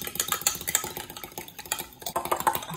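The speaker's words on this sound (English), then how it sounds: "I'm gonna whisk." Eggs and vanilla extract being whisked in a bowl, a busy run of quick, close metallic clinks and scrapes against the bowl's side, fairly quiet with no talk.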